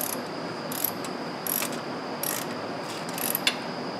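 Wrench ratcheting on the 5.3-litre V8 of a 2009 Saab 9-7x, a run of rapid, close clicking bursts repeated several times in a quiet garage, with no talking.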